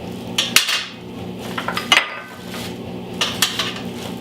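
Small metal egg cups are set into a metal egg poacher pan, giving several close, bright clinks and clanks in uneven bursts with quiet gaps between them.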